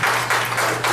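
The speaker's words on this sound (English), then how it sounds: "he needs to ask for an applause for Dave" Applause breaks out for Dave at a talk, a steady crowd clapping that fills the whole moment, loud and close with no voices over it.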